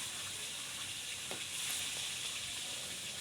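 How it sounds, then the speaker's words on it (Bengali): Sea fish (kalle) from Chittagong fry lightly in hot oil in a wok. The steady, close sizzle stays even throughout. "মাছগুলোকে একটু হালকা করে ভেজে নিতে হবে"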